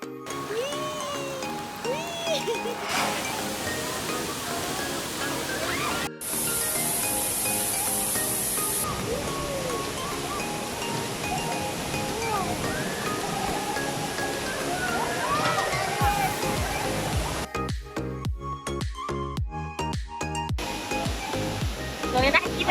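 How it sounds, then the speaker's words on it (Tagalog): Mother Falls, a waterfall near Baler, pours in a steady rushing roar throughout, with people talking over it and a short break partway through. "So, yung nakikita nyo, yan yung Mother Falls."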